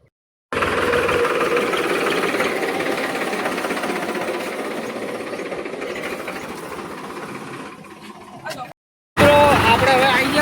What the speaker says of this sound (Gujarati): જો આ આવી રહ્યા ટ્રેક્ટર લઈને